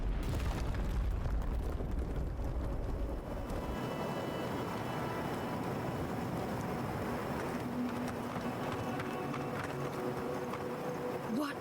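A mine blows up in the fantasy video game Avowed, a heavy low boom at the start that rolls into a long rumbling, crackling aftermath of falling debris.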